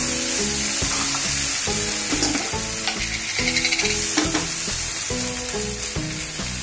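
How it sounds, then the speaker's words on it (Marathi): Okra stir-frying over a high gas flame, loud continuous sizzling with repeated scraping strokes of a spatula against the pan and tonal ringing in the background, no voices. "आमच्याकडे थोडी अशी करपलेली भेंडी आवडते, त्यामुळे मी गॅस मोठा ठेवलाय आणि मोठ्या गॅसवरच परतते"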